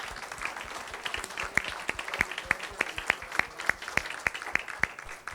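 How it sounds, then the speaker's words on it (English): Small audience at a class giving Dr. J.R. Paulson a round of applause, scattered clapping with several sharp, distinct claps standing out close by in a loose rhythm, fairly light overall. "let's give Dr. Paulson a round of applause"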